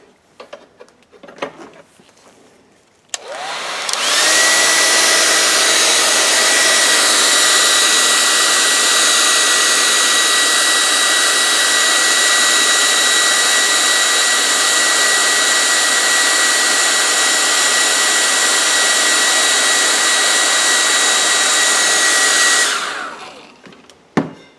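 A hair dryer blows on wet paint to dry it, starting abruptly after a few seconds of quiet, then roaring loud, close and steady for about twenty seconds before cutting off.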